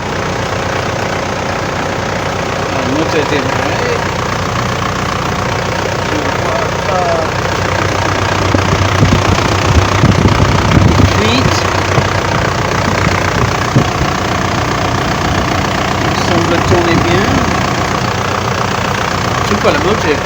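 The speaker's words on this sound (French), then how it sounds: "Le moteur est démarré." A Mitsubishi Pajero engine idles steadily throughout with a low, even rumble after timing chain work, its level rising slightly midway; faint talk and handling noises sit over it.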